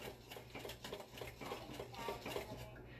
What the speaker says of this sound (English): So mix that up